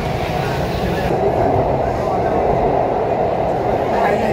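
A Kolkata metro train running through the 520-metre tunnel beneath the river, a loud, steady rumble and roar of the carriage throughout, heard from inside the train with constant low-frequency drone and no clear talk.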